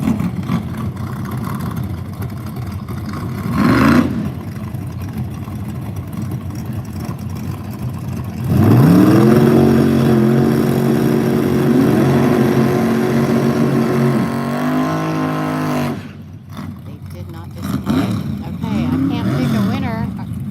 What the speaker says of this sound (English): Who thinks I'm going to get a good burnout?